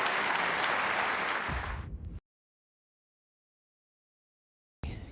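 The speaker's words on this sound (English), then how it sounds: "So even applause from Joe there for a lovely 100 break" Snooker final crowd at the 1986 World Championship claps steadily, then the applause drops abruptly into silence before a short burst returns at the end.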